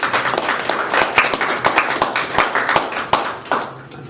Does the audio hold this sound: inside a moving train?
no